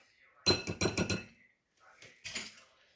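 Macaroni and cheese being stirred with sour cream in a pan gives bursts of clinking and scraping from the utensil against the pan, in two short clusters separated by a brief pause.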